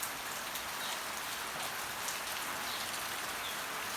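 Steady early-morning rain pours down without pause around the dawn call to prayer, a dense hiss of drops hitting a surface, fairly close and even throughout.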